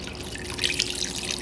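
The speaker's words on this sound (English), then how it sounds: "So I'm going to put a cup of water in." A cup of water poured into marinara sauce: a steady, splashing liquid rush that continues for the whole short moment, close and fairly loud, with no talking.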